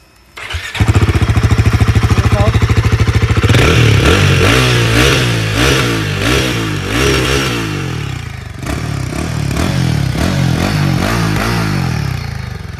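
A Royal Enfield Himalayan 450 motorcycle starts and idles loud and close, its exhaust giving a steady smooth thrum with a few short revs rising and falling, no voices.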